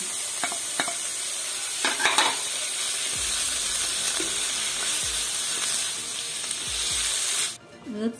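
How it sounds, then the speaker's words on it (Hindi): Cabbage is added to a hot pan for chicken and vegetable spaghetti and stirred, giving a steady, loud sizzle of frying with scraping stir strokes throughout that stop abruptly near the end. "और अब इसमें ये बंद गोभी है, ये डालेंगे।"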